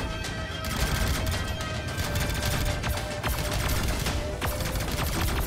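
A spaceship in Starpoint Gemini 3 fires rockets in a loud, rapid barrage: dense, overlapping bursts and crackling blasts with no pause, under constant combat noise.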